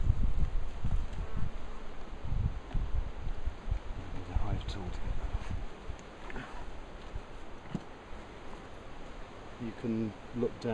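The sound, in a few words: honeybees buzzing in a beehive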